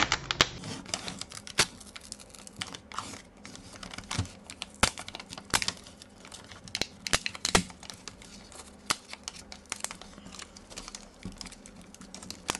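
Packaging of Tchibo Gold Mokka ground coffee, wrapped in two layers, being opened by hand: sharp irregular crackles, tearing and crinkling bursts scattered through a quiet room, close to the listener.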